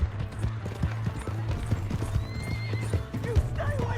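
A horse in Red Dead Redemption 2 clip-clops along in a steady trotting rhythm, with close, loud hoofbeats, and a whinny rises partway through, with no talk.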